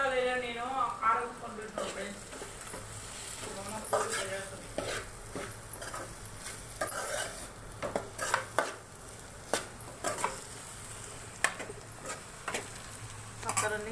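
A spoon stirs curry frying in a pan of hot oil with added chilli powder, giving scraping and clinking strokes over a steady low sizzle, with someone talking throughout.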